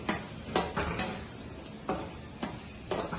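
A spoon scraping and knocking in a pot while egg biryani masala is mixed, giving soft irregular clinks and scrapes, close by and fairly quiet, with no talking.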